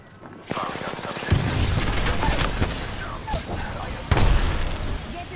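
Gunfire and blasts in Apex Legends, loud close bursts and booms over a continuous game din, with a voice talking over the action.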